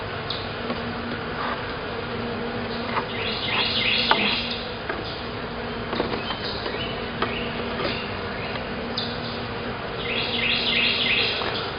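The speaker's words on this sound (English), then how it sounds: "I'm going to put this box back on here as soon as I get the rest of these bees out of here." Honey bees buzz around an open hive box during a hive inspection, a constant dense hum with many bees flying close past, birds chirping faintly in the background.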